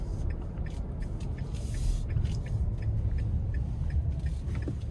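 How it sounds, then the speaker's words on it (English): A 2025 Nissan Frontier PRO-4X truck, nearly new, accelerating moderately up an interstate on-ramp, heard from inside the cab as a steady low engine and road rumble with faint ticks and rattles over it. "Now I'm gonna give it a little pull getting on the interstate"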